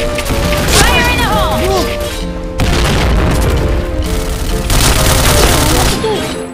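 Grenade explosions and gunfire in the shooter game Point Blank, loud booms and rattling bursts with debris, breaking in waves across the span while pitched game effects and voices sound beneath.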